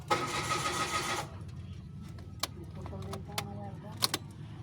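A Mitsubishi Mirage G4 with a check-engine fault cranks without catching, a rapid rhythmic starter churn for about a second before cutting off, followed by faint clicks and quiet rattles nearby.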